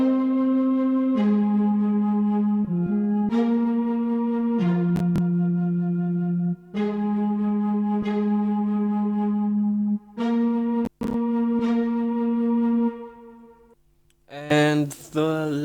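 A smooth R&B sample layers a Sonatine Orchestra flute, a Purity synth lead and Expand spiccato strings in a slow, sustained melody of held notes, with a brief bright flourish at the end.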